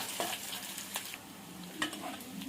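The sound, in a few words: chopped onion frying in mustard oil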